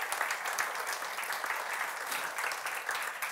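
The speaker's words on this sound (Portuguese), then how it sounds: "Pode dar uma salva de palmas para esse Deus maravilhoso." A church congregation at a Brazilian gospel service in Munich claps in a steady, dense round of applause, moderately loud throughout with no voices on top.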